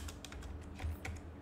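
Keys clatter on a computer keyboard while typing a job application letter in Word, a quick, steady burst of close, moderately loud keystrokes with no voices.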